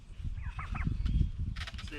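Turkeys gobble faintly in short rattling bursts amid a low, muffled outdoor rumble, the calls coming twice in quick succession.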